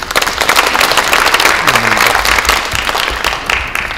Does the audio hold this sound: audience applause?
yes